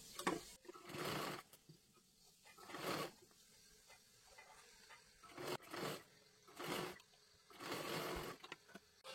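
A sewing machine double-stitches a blouse sleeve in several short, quiet bursts of rapid whirring, separated by brief pauses with no voices.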